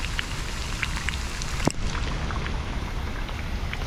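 Heavy rain falling steadily over a creek during crab hunting, a dense continuous patter with scattered drips and one sharp knock partway through.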